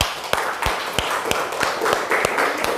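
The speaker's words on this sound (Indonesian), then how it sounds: "Tepuk tangan." Students in a classroom clap together in a quick, even rhythm of about nine sharp, close claps, with no voices.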